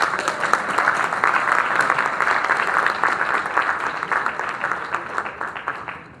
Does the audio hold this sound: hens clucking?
no